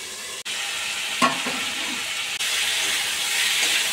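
Ridge gourd frying in a pan, a continuous sizzle with a brief scrape of stirring partway through and a couple of short dips, with no talking.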